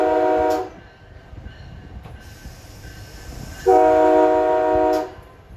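MBTA commuter train running on rails, with a loud horn blast at the start and another later over a low rumbling, rattling ride in between.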